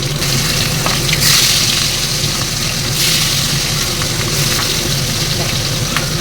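Fish frying in mustard oil, a loud, steady broadband sizzle that swells and eases over several seconds, with occasional faint clinks close by.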